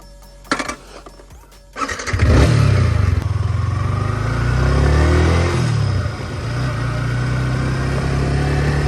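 A 2024 Yamaha R15 V4 sportbike starts with a few clattering ticks, then its engine fires up loudly and holds a steady, throbbing note with revs rising and falling during a first-person test ride, with no talk.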